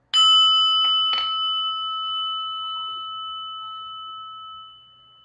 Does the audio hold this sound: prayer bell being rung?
yes